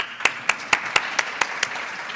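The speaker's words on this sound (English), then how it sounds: "please join me in a round of applause." Sparse, evenly spaced claps from a conference audience at a global summit, about seven sharp hand claps in a steady rhythm over a quiet room, thin and moderately distant rather than a full ovation.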